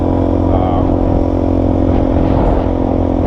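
A dirt bike engine drones steadily at close range while riding on a South Carolina adventure route, a constant loud, buzzing hum with little change in pitch.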